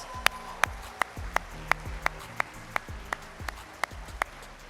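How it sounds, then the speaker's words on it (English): Sharp, evenly spaced claps, about a dozen in slow steady rhythm, greet a Coach of the Year award winner at a high school sports awards ceremony, crisp and close with a faint hum beneath. "Let's give John a round of applause"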